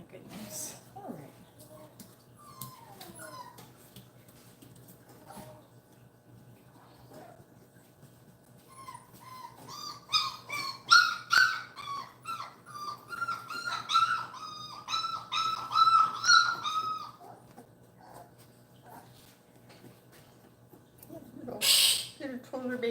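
A young Toller puppy whimpers and yips in a series of high, thin cries during a bath, loudest in the middle stretch, with quiet handling noises around them.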